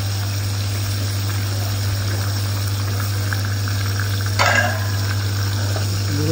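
Pieces of rohu fish fry in hot oil with a steady, even sizzle and a low background hum, with a brief burst of spattering near the end.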